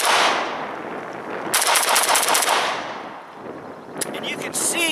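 AK74-pattern rifle from Arsenal Las Vegas (SGL31-94) firing 5.45x39 in rapid strings of sharp, loud cracks with echoing reports outdoors, two bursts separated by a short lull.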